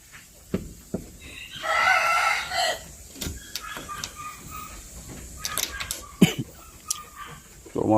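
Shamo chickens on a farm, with a rooster's long crow rising near the start and scattered clucks and short calls around it, fairly close, with brief bits of talk nearby.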